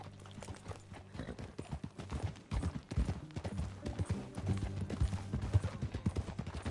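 Rhythmic hoofbeats of a horse in the video game Red Dead Redemption 2, clip-clopping at a steady pace, fairly close, with a faint ambient background and no talking.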